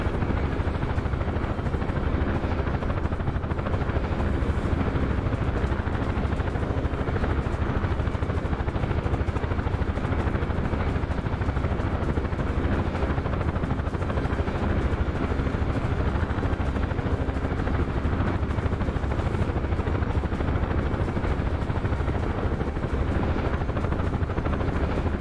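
A UH-1 helicopter in a VR combat flight game drones continuously with a steady, loud rotor and engine roar, unbroken and without talk.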